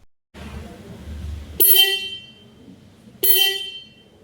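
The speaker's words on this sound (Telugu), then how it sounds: "ఒకసారి సౌండ్ వినండి హారన్ది." The single horn of a 2026 Hero Xtreme 125R motorcycle sounds twice, each a loud, close, sharp honk of about a second, separated by a pause, with low murmur and handling noise before the first.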